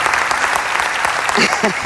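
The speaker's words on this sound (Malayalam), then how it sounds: "ഇതിനൊരു ചെറിയ കൈയടി പോരാട്ടോ, കുറച്ചുകൂടി വലിയ കൈയടി അർഹിക്കുന്നുണ്ട്" An audience at a large mothers' state convention mega event claps loudly and continuously, a dense sustained burst of applause close to the microphone.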